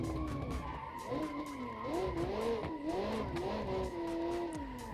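Tires skid and squeal while a rear-wheel-drive car drifts in BeamNG.drive, the engine note rising and falling with throttle feathering in a steady, close, continuous slide.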